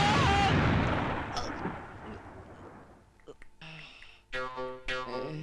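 A firecracker explodes near a temple shrine during a coconut-breaking prayer, giving one loud, close bang that fades into a long rumbling tail before voices talk.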